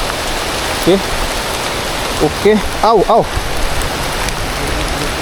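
Steady rain hisses down outdoors at a fishing spot, a constant broadband wash throughout, with a few short spoken exclamations over it.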